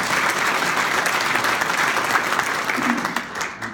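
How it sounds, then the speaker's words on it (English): An audience breaks into loud, sustained applause in a room, dense clapping holding steady and then starting to thin out near the end. "I think he deserves a round of applause"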